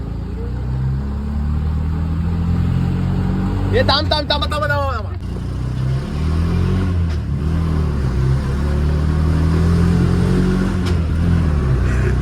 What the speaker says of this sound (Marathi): यश बघा कशी रिक्षा चालू.